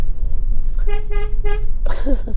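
The horn of an electric Fiat 500 sounds three short, bright toots in a row outdoors, followed by a brief vocal exclamation.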